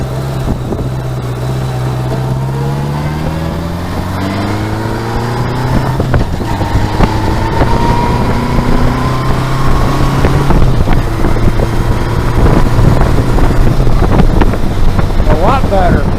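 A Honda Goldwing 1100 motorcycle fitted with a single VW Solex carburetor cruises down a highway beltway. The engine drone is loud and steady and shifts pitch as it accelerates, with heavy wind rush throughout.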